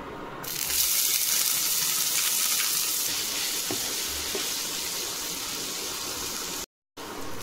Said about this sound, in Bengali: এবার দিয়ে দিচ্ছি পেঁয়াজ কুচি